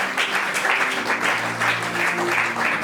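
A church congregation at a divine healing service claps in dense, even applause, loud and sustained through the whole stretch, with a faint tone in the background.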